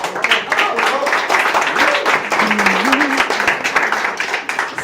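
An audience applauds a team, dense clapping rising and lingering while a voice talks over it.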